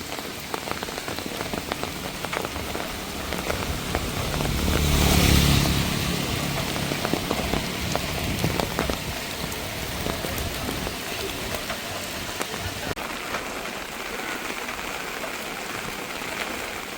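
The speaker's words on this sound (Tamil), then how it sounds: "சரியான மூட்டமாகவும் இருக்குது மழையாகவும் இருக்குது" Heavy storm rain pours down in Jaffna, a continuous loud hiss of downpour lasting throughout, swelling briefly in intensity early on.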